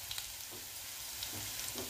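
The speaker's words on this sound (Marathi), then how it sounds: "कुटलेला लसूण टाकायचं 1 चमचा। लसूण छान भाजू द्यायचं।" Crushed garlic and curry leaves frying in a pan, a faint, continuous hiss with soft spatters and occasional light stirring taps.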